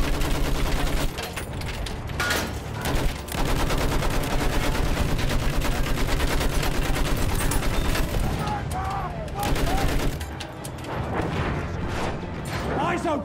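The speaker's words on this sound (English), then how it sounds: "There's a machine gun!" Battlefield 1 battle: dense, rapid machine gun fire rattles in near-continuous bursts with a few short pauses, under urgent shouting voices.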